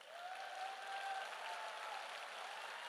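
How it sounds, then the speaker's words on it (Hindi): Applause from a seated audience at a motivational talk on wellness and direct selling, a soft, steady wash of clapping that holds evenly for about three seconds, somewhat distant and low in level. "अब आप अपने लिए तालियां बजाइए।"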